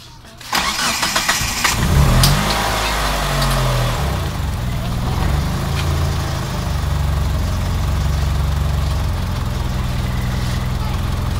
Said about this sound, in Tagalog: pwede na nating paandarin yung makina ulit